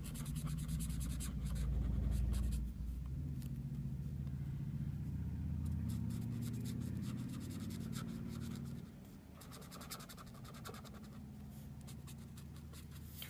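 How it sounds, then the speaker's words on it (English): A marker tip loaded with ink colors on white paper while making a Stampin' Up! card. Soft, scratchy strokes come close and quiet, with faint low rumble behind them and no talk. "What you do is you just run your tip into that and you color with it."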